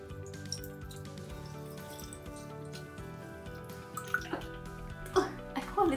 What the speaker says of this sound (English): let's just pour the water